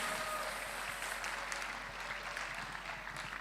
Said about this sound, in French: Pour applaudir très très fort pour le Seigneur